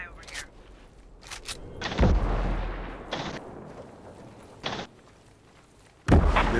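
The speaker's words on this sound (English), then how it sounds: "Grenade going out." Grenade blasts boom in the Ghost Recon shooter, several heavy low thuds spread across a few seconds amid gunfire and a steady battlefield rumble.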